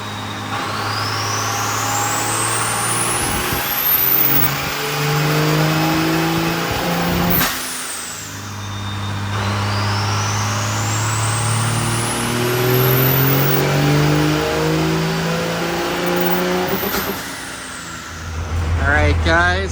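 Diesel truck with a Scheid stage 2 VP44 pump and Quadzilla tuning revving on a dyno, two long loud pulls rising in pitch then dropping off, with a brief air release between runs and talk over the noise.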